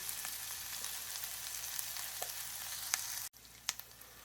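Onions frying in a pan over medium-high heat give a steady, moderately quiet sizzle and crackle with a few sharper pops, and a brief drop in sound near the end.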